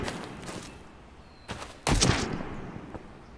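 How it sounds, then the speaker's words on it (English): Gunfire in the survival shooter Road to Vostok, with a few distant-sounding shots followed by a louder burst near the end, over faint background noise and no talk. "Shots fired from where?"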